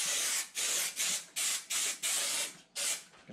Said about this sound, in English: So just gonna spray along here, couple of inches all the way down.